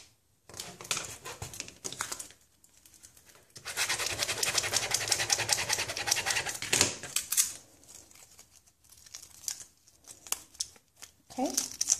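Crinkly transfer tape handled for a Valentine mug decal: bursts of crackling, crinkling and peeling sounds, close and fairly loud, with a long dense stretch in the middle and quieter gaps, plus brief breathing.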